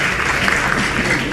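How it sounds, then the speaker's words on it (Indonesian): Audience clapping for guest speakers at an Indonesian panel discussion on education, a brief, steady burst of many hands at close range with no voices over it. "Oke kita berikan tepuk tangan untuk narasumber kita."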